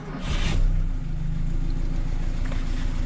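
A car engine idles steadily after being put back together following reassembly, a low continuous rumble with a brief swell early on, close by and with no talk over it.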